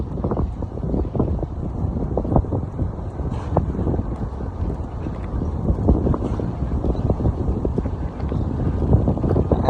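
Strong wind gusting across a port in Greece with ships nearby, a rough continuous buffeting roar with irregular thumps of wind hitting the microphone.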